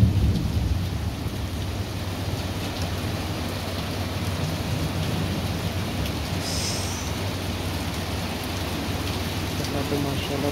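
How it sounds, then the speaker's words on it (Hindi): Heavy rain pours steadily during a thunderstorm in Jeddah, a dense, unbroken hiss of downpour with low rumbling beneath it, loud and close throughout. "तो माशाल्लाह बहुत ज़्यादा बारिश है"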